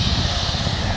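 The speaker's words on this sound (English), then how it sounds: "there is a helicopter" A helicopter flying overhead along a city greenway near a heliport, heard as a steady, loud rotor and engine roar that fills the whole second without a break.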